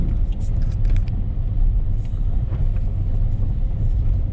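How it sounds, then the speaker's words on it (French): A Peugeot 207 car driving off-road, its engine a steady loud rumble with constant low road and tyre noise, close and continuous throughout. "on se retrouve pour un petit tour d'off-road en Peugeot 207"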